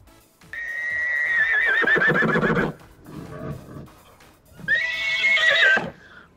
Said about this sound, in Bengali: ঘতে ঘোড়া। ঘোড়াটি দেখো দৌড়ে বেড়ায়।